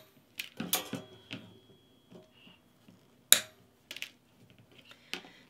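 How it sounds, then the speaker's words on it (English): Cutters snipping off excess material at a craft table in a quilt room, a handful of sharp isolated clicks and snips spaced irregularly over near silence, close up, with no voices. "I'm just going to use these cutters here to cut this excess off"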